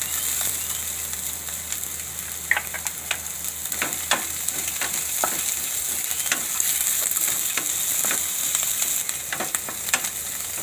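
Chilies fry in hot oil in a pan for a Gujarati potato and semolina snack, giving a steady close sizzle broken by scattered clicks and scrapes of stirring.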